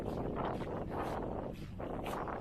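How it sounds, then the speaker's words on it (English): Wind buffets a microphone outdoors after a long run, a continuous loud rumbling roar with gusty swells and no clear voice over it. "Hope you guys can hear this over the wind."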